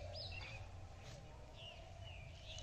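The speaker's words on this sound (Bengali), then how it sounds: "সকালবেলায় পাখিদের কলরব শুনতে কিন্তু অসাধারণ লাগে।" Birds chirp in the morning from nearby tree branches, a few faint, scattered calls over low background hum.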